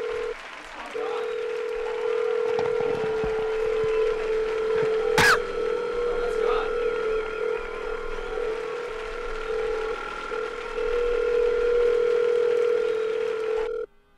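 A phone call is placed as a joke during a comedy podcast, with steady dial tone and dialing beeps running throughout, one sharp click partway through, and voices talking faintly underneath.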